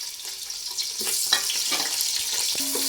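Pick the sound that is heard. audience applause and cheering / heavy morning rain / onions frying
onions frying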